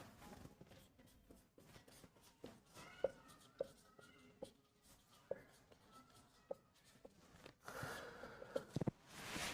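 Notes are written on a board in a classroom chemistry lesson, with faint, quiet taps and scratches of writing spaced irregularly, and brief soft rustling near the end.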